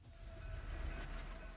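A train in the video game Last Hero Nostalgaia rumbles steadily with a heavy low rolling drone and a faint tonal hum, continuous and moderately close, with no speech.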